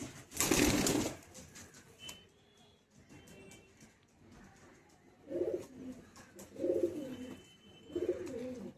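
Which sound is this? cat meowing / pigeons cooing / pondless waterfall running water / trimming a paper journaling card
pigeons cooing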